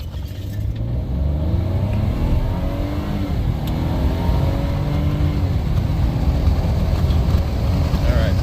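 A 2018 Ford F150 with the 2.7 engine accelerates hard from a stop in sport mode, engine note rising through the gears inside the cab, with a voice speaking over it.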